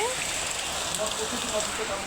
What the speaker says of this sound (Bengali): আজকে আমাদের বাংলাদেশে বৃষ্টি হচ্ছে।